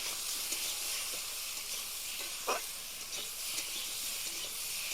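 Small river fish fry with salt and turmeric, giving a steady, moderately quiet sizzle with occasional light stirring clicks and one brief scrape.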